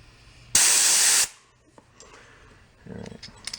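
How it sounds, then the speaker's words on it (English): A single sharp burst of compressed air blasts through the passages of a carburetor from a barn-find gas-powered golf cart pickup, loud and close for about a second, followed by faint clicks and handling noises. "Just give them a little puff of air."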